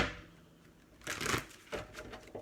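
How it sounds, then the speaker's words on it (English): Oracle cards being handled and shuffled, a few soft papery bursts of riffling and sliding, close and quiet, with faint background hiss and no talking. "let me pull a few of these oracle cards as well"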